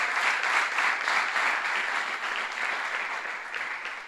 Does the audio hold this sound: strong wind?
no